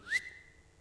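A voice imitates the whistle of a sniper bullet, one short rising whistle that fades fast, heard close and fairly quiet, set in a report from the war in Ukraine.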